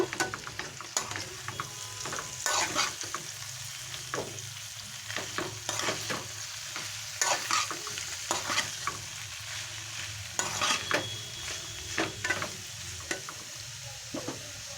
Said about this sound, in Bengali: আমি যে মশলাটা পেস্ট করে রেখেছিলাম ওটা দিয়ে দিলাম দিয়ে ভালো করে মিশিয়ে নেব